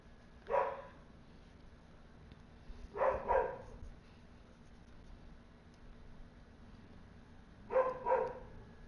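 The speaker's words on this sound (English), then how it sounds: "And the dog is barking." A dog barks indoors in three short bursts of one or two barks each, spaced several seconds apart, muffled and moderately distant over a quiet room.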